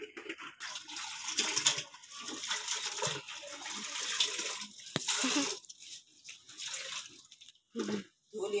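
Water runs and splashes from a tap with low pressure in uneven spurts, with quiet voices occasionally under it and brief gaps near the end.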